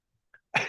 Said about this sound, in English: I apologize for coughing as well